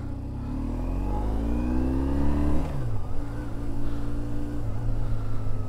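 A BMW R1150GS motorcycle engine on a test ride with a passenger in heavy rain, rising in pitch as it accelerates, dropping through a gear change, then pulling steadily onward, close and loud.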